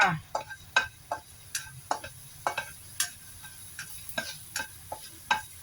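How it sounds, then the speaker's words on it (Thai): Pork filling for sago dumplings stir-fried in a pan, heard as a quiet run of quick, regular spatula scrapes and taps over a faint low sizzle, nearby and without speech. "ผัดไส้ก่อนจ้ะ"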